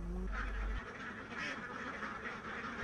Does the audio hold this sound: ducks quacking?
yes